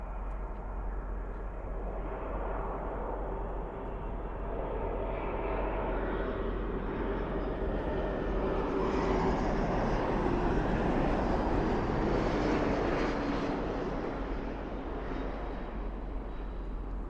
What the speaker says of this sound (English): That is Porter Airlines.